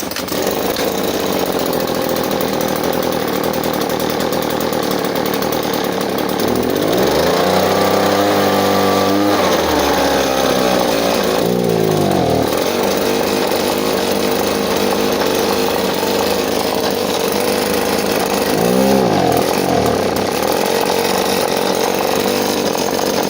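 A primed, choked Husqvarna 525BX leaf blower with an X-Torque two-stroke engine fires up and revs loudly, bogging as the throttle opens, then settles and revs again toward the end over a steady background hum.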